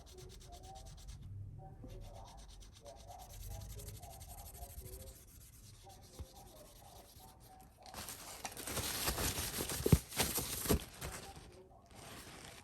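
Soft rubbing and scraping on a Blu-ray slipcover as sticker residue is worked off, quiet and close, growing into brisker, louder strokes toward the end with faint talk early on.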